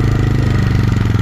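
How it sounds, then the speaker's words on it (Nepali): A motorcycle engine runs steadily close by on a hilly road, a short burst of low, even, pulsing engine chug. "पछाडि केटीले बाइक कुदाइरहेको छ"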